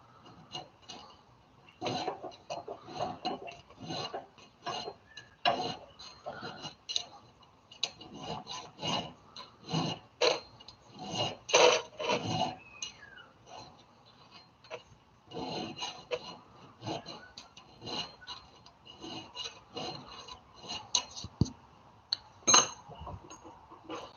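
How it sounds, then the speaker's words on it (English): Hand file rasping metal while detailing the surface of a hand-forged hammer, a long series of short irregular scraping strokes with small clinks between them, close and fairly quiet. "A little bit of filing, and then I'm going to switch to the other side."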